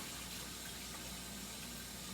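A kitchen tap runs steadily while hands are rinsed of chicken drippings and flour, a continuous broadband water rush at moderate level with no talk over it.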